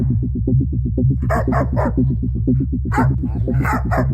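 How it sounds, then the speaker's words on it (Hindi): A dog chasing someone barks loudly and rapidly in a continuous run of close, repeated barks over a low rhythmic background. "मेरे पीछे तो कुत्ता पड़ गया।"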